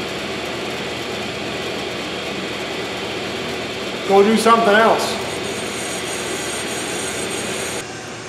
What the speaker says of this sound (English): while the brake lathe is doing its thing, you can probably hear it in the background